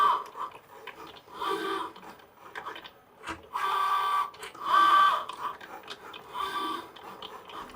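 A Cricut Joy cutting machine cuts a design, motors whirring and buzzing in repeated short bursts with brief quiet gaps as the mat feeds through and out the back, close and moderately loud.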